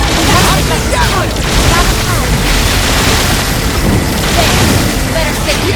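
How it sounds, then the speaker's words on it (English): An Omni Gatling weapon in Xenoblade Chronicles X firing a dense, loud, continuous barrage of booming bursts that run without a break, with voices shouting over the din. "Open fire! Omni Gatling!"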